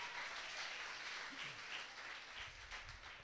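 A church congregation breaks into steady, crowd-wide applause that fills the room from start to finish at an even, fairly soft level.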